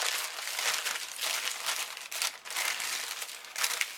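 Birthday parcel being opened, its packaging crinkling and rustling continuously at close range in uneven, crackly bursts, with no one talking.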